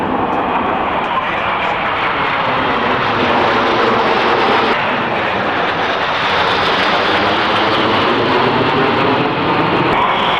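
Lockheed TriStar and Vickers VC-10 jet airliners flying past at the 1995 Fairford airshow, a steady loud roar of jet engines throughout with a commentator talking over it.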